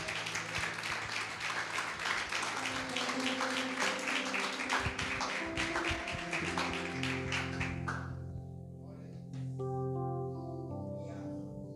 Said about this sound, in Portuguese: A palmas ao Senhor.